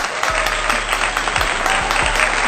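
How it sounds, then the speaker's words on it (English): A burst of dense clapping recorded close up, steady and loud over a low hum, with a few thumps scattered through it. "Let's do a round of applause for Nike."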